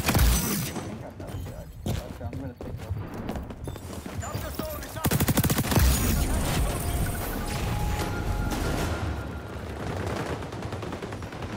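Continuous gunfire from a video game shooter, with a sharp crackle of shots running steadily throughout, mixed with loud game effects and a voice talking over it.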